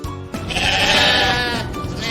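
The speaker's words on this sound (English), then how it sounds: "Sheep." A sheep gives one loud, close, wavering bleat lasting about two seconds, alone with no talk, in a set of farm animal sounds.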